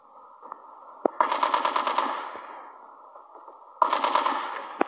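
Rapid automatic gunfire rattles in the video game Call of Duty Mobile, two loud bursts of quick shots separated by a single sharp crack and a lull.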